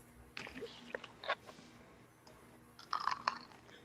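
Crunchy fried chicken being chewed close up, several crisp bites in short bursts with pauses between them, with no talking over it.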